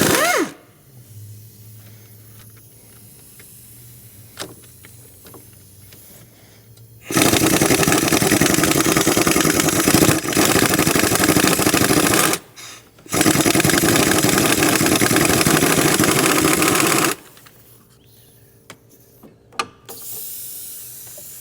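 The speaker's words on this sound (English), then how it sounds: "I got a 15mm wobbly and an extension. I'm just going to put a gun on that and take that one out" Impact gun on a 15mm wobble socket and extension, breaking loose a transmission bolt on a 2008-2020 Chrysler Town & Country minivan's 62TE transmission: two long, loud, harsh rattling bursts of about five seconds each, split by a short pause, between quieter shop noise.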